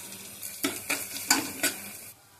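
Onions and ginger-garlic paste fry in a pan with a soft sizzle, broken by four or five distinct scraping stirs close to the microphone.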